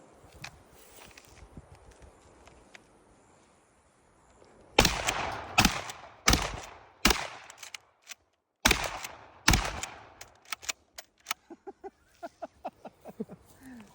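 Six heavy 3.5-inch 12 gauge magnum shotgun blasts fire in an uneven sequence, each a loud sharp crack with a short ringing tail. A few lighter mechanical clicks and thumps trail off after the shots.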